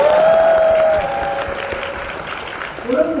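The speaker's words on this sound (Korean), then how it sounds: "여러분을 위해서 박수." Applause from an audience at a Korean business seminar, a loud, dense wash of many clapping hands with some cheering that swells at first, then eases to a steady, lower level.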